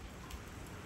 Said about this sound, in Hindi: भाई लगातार बारिश हो रही है